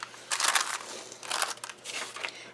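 Parchment paper is folded and handled up close, giving bursts of crisp crackling and crinkling in three separate handfuls with quiet gaps between.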